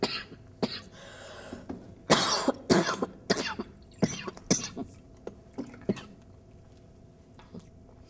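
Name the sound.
person coughing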